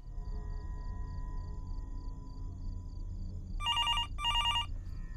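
A phone rings inside the horror video game Fears to Fathom. Two short bursts of an old-style ringing bell come late, over a low ambient hum and a repeating faint electronic tick, with no talking.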